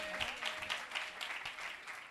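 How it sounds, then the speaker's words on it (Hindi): Church congregation clapping in response to a preacher's call, a continuous moderately loud patter of many hands with a faint tonal whine threading through it. "जोरदार तालियां।"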